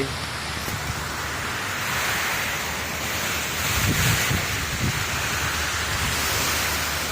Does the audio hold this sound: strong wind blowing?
yes